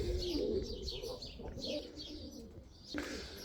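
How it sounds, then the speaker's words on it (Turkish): Soft, repeated cooing of a pigeon or dove, fairly close, with faint chirps and light rustling in the background. "Az evveli şu kuş indi."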